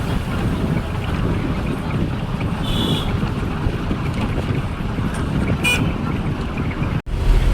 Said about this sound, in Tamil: வண்டி நல்லாவே ட்ரைவ் பண்ணிட்டு கரெக்டாக மீடியமான ஸ்பீடில் போயிட்டுருக்காங்க